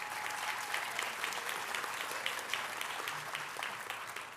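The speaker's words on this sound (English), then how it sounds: "Now you can clap." A full audience claps warmly at a health sciences university white coat ceremony, continuous dense applause held at an even level for the whole stretch.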